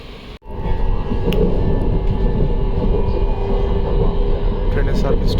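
A Malaysian public transport train gives off a steady, loud rumble and rolling hum from inside the carriage, continuous throughout with a brief dip near the start.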